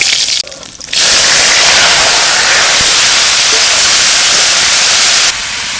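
Bay leaf, dried red chilli and cumin seeds hit hot mustard oil with a sudden loud, dense sizzle that rushes in after a brief quieter moment and holds steady for several seconds before easing.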